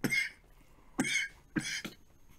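A man coughing in three separate harsh bursts, each sharp attack followed by a short rasping tail, close up and with no talk.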